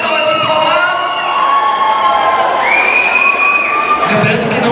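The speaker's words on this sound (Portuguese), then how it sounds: "Uma salva de palmas!" A crowd at a K-pop dance challenge at an anime convention cheers, whoops and shouts loudly and continuously after a dance performance, with high children's voices and some clapping.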